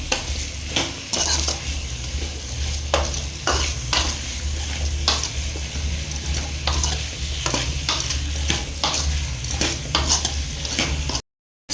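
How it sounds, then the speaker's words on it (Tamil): Oil sizzles steadily while a spoon scrapes and stirs drumsticks around a pan in repeated strokes, close by with no talking. "முருங்கைக்காய் போட்டு நல்லா வதக்கணும்"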